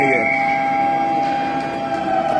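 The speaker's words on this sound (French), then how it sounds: "et on repousse par la bande et la sirène se fait entendre" A loud, sustained siren blares through an ice hockey arena during a match between the Dynamos and the Panthères, holding a steady droning tone with a busy crowd-like wash beneath it.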